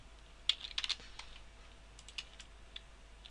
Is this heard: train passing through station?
no